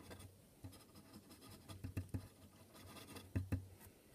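A Sailor King of Pen fountain pen with a Naginata Togi nib writing at a low angle, giving soft scratchy nib strokes in short bursts with a few sharper taps, faint and close with no talking.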